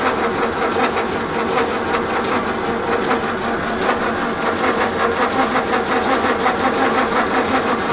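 A 1932 Morris Minor engine churns and sputters unevenly while trying to start and run, a loud, continuous mechanical chugging with a pulsing rhythm and no voices.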